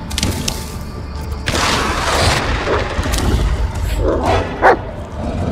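A dog barks in the Blair Witch horror video game, a few loud yips and barks punctuating rumbling forest ambience, with a sharp bark near the end.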